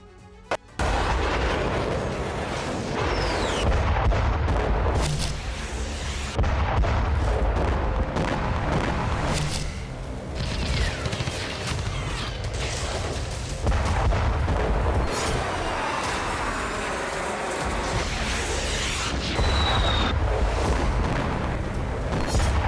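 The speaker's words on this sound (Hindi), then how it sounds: "एक के बाद एक धमाके हो रहे हैं।" Repeated heavy explosions from wartime strikes boom one after another, loud and continuous with dense rumbling and crackling debris, no voices over them.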